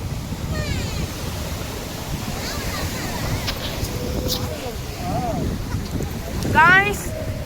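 Sea waves wash onto a beach in a steady, rolling roar, with wind buffeting the microphone and a few faint voices and bird calls in the background.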